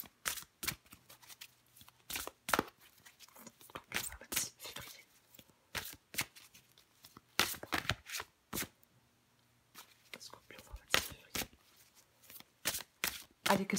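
Tarot cards being shuffled and drawn, a series of crisp riffling and snapping bursts at close range, spaced irregularly with quiet gaps between them.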